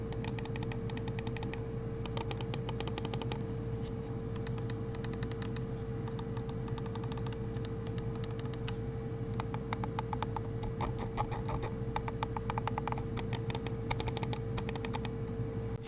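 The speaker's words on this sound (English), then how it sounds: "this mouse uses mechanical switches, not optical switches, that are tuned by Corsair and rated for 100 million clicks" Mechanical switches on a Corsair Sabre V2 Pro gaming mouse click in quick bursts of sharp, close ticks, separated by short pauses, over a low steady background hum.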